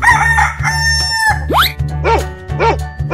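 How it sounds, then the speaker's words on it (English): A rooster crows loudly and close by in a single strong call, followed by a few shorter rising cries. The calls sit over a steady low background tone. "Chicken."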